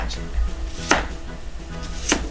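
A knife chops potatoes into bite-size cubes on a cutting board, giving two or three sharp, close knocks spaced apart over a quiet background.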